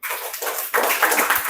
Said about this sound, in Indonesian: Tepuk tangan dulu untuk Fatah dan Fatih